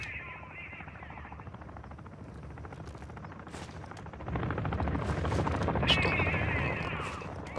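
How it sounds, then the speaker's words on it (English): A helicopter lands in the Call of Duty: Modern Warfare II DMZ game mode, a steady rotor drone that swells louder midway, with faint gunfire crackling in the background. "There's somebody there, there's chopper landing."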